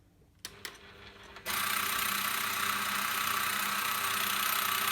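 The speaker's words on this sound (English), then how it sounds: "And the bobbin will wind until the bobbin is full." A quilting sewing machine on a quilt frame switches on with a couple of clicks, then runs at a steady, loud hum while winding a bobbin.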